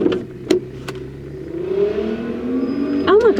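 A loud car engine revs and sweeps past, rising then falling in pitch, with a couple of sharp knocks early on and muffled human sounds underneath.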